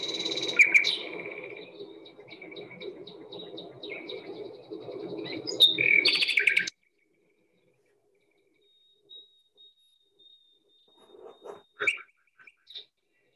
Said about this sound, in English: So here's the nightingale. Trills a lot, lots of single whistling notes.